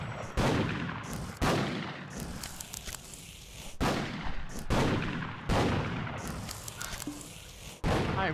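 Rapid bursts of video-game gunfire crack out repeatedly, loud and close, in about eight separate volleys with short gaps between them and no talk over them.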